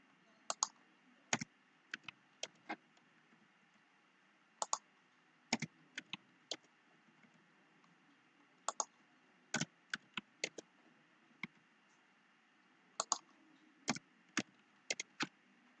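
Scattered keystrokes click on a computer keyboard in short irregular clusters, crisp and fairly close against a quiet background hum, with no talking.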